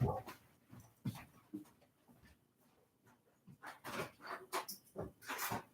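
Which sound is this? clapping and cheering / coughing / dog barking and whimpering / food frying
dog barking and whimpering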